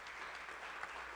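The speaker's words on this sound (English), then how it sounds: "So round of applause for all of you" Brief, faint audience applause at a Native Edge Institute event in Atmore, Alabama, an even wash of clapping lasting just over a second with no voices.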